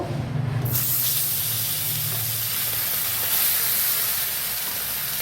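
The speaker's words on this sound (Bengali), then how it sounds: "এবার মাছগুলোকে আমি কড়ার মধ্যে দিয়ে ভেজে নেব।" Bata fish dropped into hot oil in a wok: a sudden loud sizzling hiss bursts in after a brief pause and holds steady and close, spraying and crackling continuously with no voice over it.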